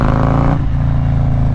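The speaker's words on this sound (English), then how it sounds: "as I rip on the throttle, right, there goes a couple dollars right there just from doing that little pull" A motorcycle engine revs hard as the throttle is ripped open, a loud, close, steady roar with a shift in pitch partway through, no talking.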